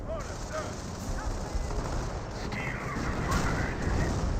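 Gunfire from a Panzer IV tank and German Grenadier infantry in Company of Heroes, a dense, continuous rattle of shots and distant booms in a busy battle mix, steady and moderately loud throughout, with faint voices.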